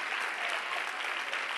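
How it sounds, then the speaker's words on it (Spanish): Audience applause in a studio auditorium for a live talk show, a steady dense clapping that fills the short moment at moderate level with no voices over it. "eso merece un aplauso"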